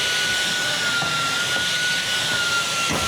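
A vacuum cleaner runs over an RV floor littered with dog hair, a loud, steady whining roar that holds without pause from start to finish.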